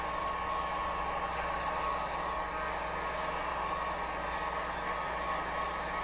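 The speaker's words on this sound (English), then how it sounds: "I'm going to get out my heat gun for just a minute. We can chat while I'm drying." A heat gun blows steadily and loudly from start to finish while drying faux enamel ware craft paint, making an unbroken roaring hiss of air with no talk over it.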